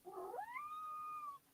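A single kitten gives one drawn-out, rising meow lasting over a second, clear and close against a quiet room.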